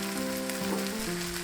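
Spam fries in a pan, a steady close sizzle with a faint low tonal hum running underneath and no talking.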